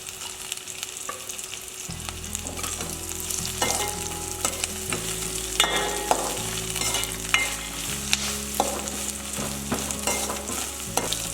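Garlic and curry leaves frying in a pan for a sour, spicy moru curry, giving a constant bright sizzle broken by repeated scraping stirs, close and fairly loud, with no talking.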